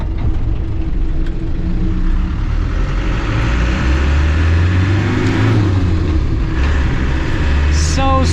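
A classic Land Rover Defender drives while held in one gear, its engine a steady, loud drone with low rumble and road noise throughout, and a voice speaks briefly over it.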